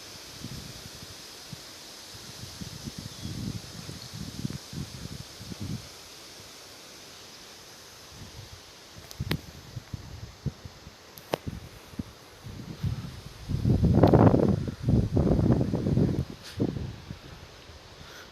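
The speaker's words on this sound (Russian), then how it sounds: "Это опять, смотрите, порыв ветра сейчас резкий будет. Сильный порыв ветра." Strong gusts of wind at about 20 m/s on an overcast day roar in surges against the microphone, with rustling bursts early on and a louder, sustained gust building near the end.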